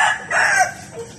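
A rooster crows on a rural farm in the morning, a single loud, bright call close by, rising and then trailing off over about a second, with no talk over it.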